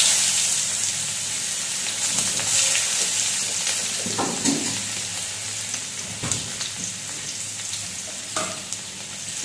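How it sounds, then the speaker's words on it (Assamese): Panch phoron spices and chopped onion fry in leftover fish-frying oil for a Bengal-style rohu mustard curry, giving a steady loud sizzle with a few scraping stirs and no talk. "যিখিনি মাছ ভজা তেল থাকিলে সেইখিনিতে মই এতিয়া দি দিম এক চামুচ পাঁচফোৰণ আৰু যিখিনি আছিলে আপোনাৰ পিঁয়াজ কটা পিঁয়াজ অলপমান"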